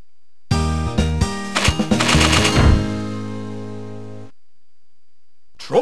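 A single sharp gunshot in the arcade hunting game Trophy Hunting, followed by a short burst of rattling, stepped electronic game sounds that ring out and decay before brief silence.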